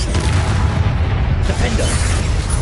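Booming spell blasts from the video game Hogwarts Legacy rumble continuously across the moment, dense low-end bursts layered over game music and effects.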